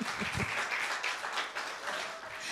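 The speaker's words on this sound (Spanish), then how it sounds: "vamos a darle un aplauso." A congregation applauds during a Spanish-language church service, clapping for the pastor in a soft, continuous patter that sounds somewhat distant and subdued.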